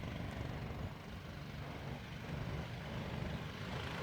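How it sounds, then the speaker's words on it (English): A small drag-style mini chopper motorbike engine drones steadily at a distance, a continuous low, rough rumble that holds fairly even throughout with no talk over it. "It sounds like a real bike"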